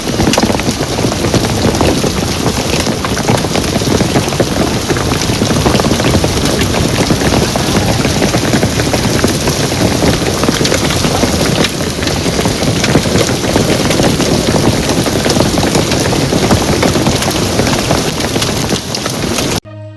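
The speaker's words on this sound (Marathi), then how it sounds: "तुफान गारपीट बागलाण तालुक्यात गारपीटीचा हाहाकार।" Heavy hail and rain lash down during a storm over farmland in Baglan taluka near Malegaon and Satana, Maharashtra: a dense, loud, unbroken roar with scattered hard impacts throughout, and no voices.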